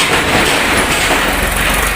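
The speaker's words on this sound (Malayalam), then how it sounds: "ഒരു ട്രാക്ടർ പോകുന്നുണ്ട്." A tractor passing by on a hot midday road, heard as a steady, loud broadband engine and rumble that stays constant throughout, with no talk.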